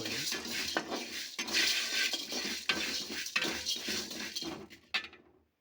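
Fenugreek seeds stirred and dry-frying in a pan, a continuous scraping rattle of spoon against metal with faint sizzle, steady for several seconds and then trailing off to quiet at the end.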